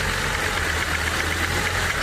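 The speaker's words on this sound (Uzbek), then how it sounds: "Qalt yurish rejimiga tushdi." An internal combustion engine converted to run on compressed gas idles with a steady, close, even mechanical hum and a low rumbling throb, with no talking.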